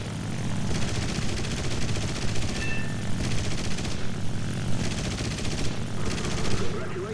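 Dense rapid gunfire in War Thunder rattles continuously over a roaring aircraft engine, loud and close, with short bursts and gaps marking the rhythm throughout.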